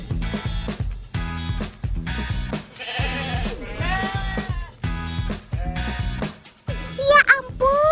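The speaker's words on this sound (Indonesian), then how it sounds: "Ternyata rumput-rumputnya buat si domba-domba imut ini toh." Dieng sheep bleating repeatedly, loud close wavering baas in quick succession, with several animals overlapping and a higher-pitched cry near the end.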